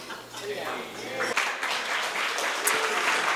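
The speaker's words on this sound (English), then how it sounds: "keep that applause going" Guests applaud and cheer at a Jewish wedding at the Saphire Estate, a steady wash of many hands clapping in a large room, with voices talking and calling out over it.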